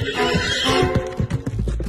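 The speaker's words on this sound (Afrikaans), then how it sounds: "Die volgende dag hoor sy 'n perd aankom." A horse arrives and whinnies loudly and close by, with soft hoof sounds under the call.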